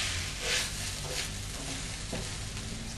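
Noodles being stir-fried in a pan, a steady dense sizzle with scraping and stirring noise that holds level throughout, close and fairly loud.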